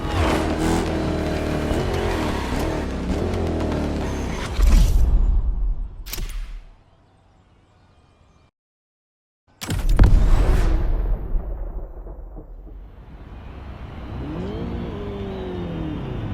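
The Hoonigan car in The Crew Motorfest video game, a Gymkhana Grid run, revs hard and drifts with loud engine roar and tire squeal, cuts to a brief silence, then resumes with roaring acceleration and fading engine drone.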